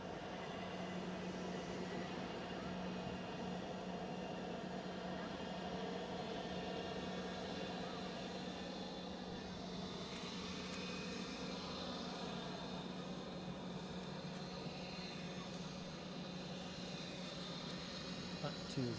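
An aircraft inbound from Bergen and wearing Pride livery lands at Edinburgh Airport. Its steady, distant engine roar and rumble lasts the whole stretch while a person talks quietly over it.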